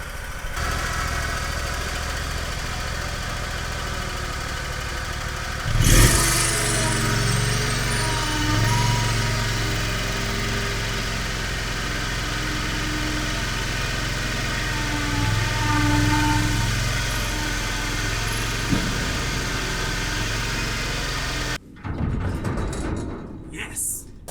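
A vehicle engine runs steadily at a low drone while a trailer is parked, with a short bump partway through, and it cuts off abruptly near the end. A voice seems to talk over it.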